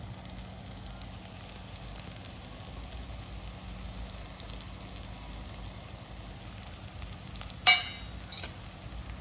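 Onion and tomato with spices frying in a pan, a soft, continuous sizzle at low volume, broken once by a brief sharp clatter near the end.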